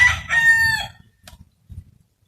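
Rooster crowing on a farm near a chicken coop, one loud, close, drawn-out call that breaks off, followed by a few short low clucks and rustles.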